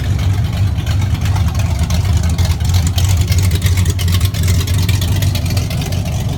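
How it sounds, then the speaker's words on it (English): Loud Jeep engine rumbling nearby at an outdoor car show, a heavy continuous low-pitched drone that holds steady and close throughout. "Have to wait for this loud Jeep deal to get the hell away."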